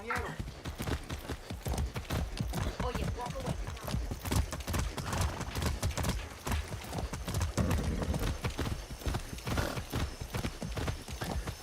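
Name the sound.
horse hooves clip-clopping in Far Cry 6 video game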